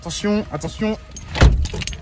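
Keys jangle briefly, then a car door closes with a solid thump as someone gets into the vehicle, with a person talking over the start.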